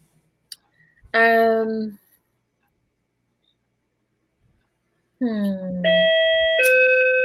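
A two-tone doorbell chimes twice, clear and fairly loud indoors, with a quiet gap of a few seconds between the rings.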